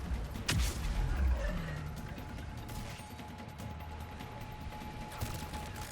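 Gunshots crack in the Mass Effect 3 video game, with a sharp shot near the start and another near the end over a quieter rumble of combat noise.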